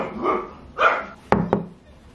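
A small dog barks in a short burst of about four loud, sharp barks close by, with a gap before the last two quick snaps, inside a home.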